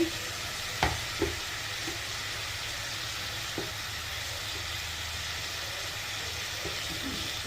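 Onion and ginger garlic paste frying in a pan make a quiet, continuous sizzle, with a couple of clinks and scrapes of a stirring spoon early on and one more later.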